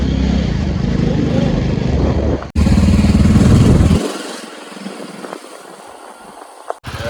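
A motorbike engine on a cousins' trip in Goa roars loudly and close for about four seconds with a brief cut partway through, then drops away to a much quieter, uneven rumble.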